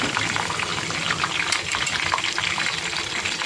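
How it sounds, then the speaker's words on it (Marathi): Herbs and tulsi leaves heating in oil for homemade hair oil, a loud, continuous bubbling sizzle that stays steady and close throughout. "हे सुद्धा आपल्याला 3 ते 4 मिनटं तेलामध्ये गरम करून घ्यायचं आहे"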